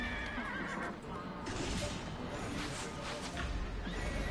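A horse in the video game Neverwinter gives a loud, drawn-out whinny over game noise, with hoof clip-clop and a crash-like thump amid a dense, steady backdrop.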